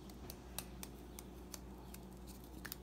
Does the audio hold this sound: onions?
no